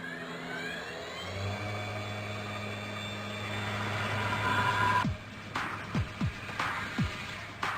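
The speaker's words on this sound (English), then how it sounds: "The router can carve out a 2 feet thick piece of foam in just one pass." A CNC router carves a thick styrofoam block, giving a sustained mechanical whine and hum that builds steadily, then breaks into several sharp sweeping cuts and clicks toward the end.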